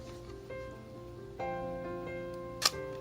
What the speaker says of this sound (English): Let's click the shutter right now to see what it sounds like.